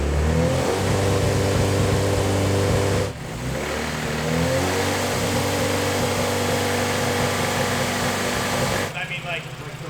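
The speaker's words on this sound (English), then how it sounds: "We'll rev it up a little bit and make sure it's still on." Honda car engine revved hard toward the limiter, a loud sustained high-rpm drone that drops briefly and climbs again, with people talking over it.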